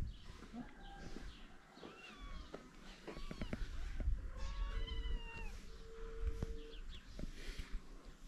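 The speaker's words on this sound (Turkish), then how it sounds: "Şu kediler için de bir şey yapak ya." Several cats meow and yowl repeatedly in a rural village setting, fairly close, over steady outdoor background noise with faint bird calls and low murmuring voices.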